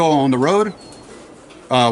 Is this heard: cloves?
no